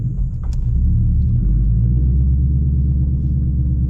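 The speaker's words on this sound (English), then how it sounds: "Slowly release the clutch and start turning." A manual car pulls away as the clutch is slowly released: a steady, close engine rumble with a low drone that stays even throughout.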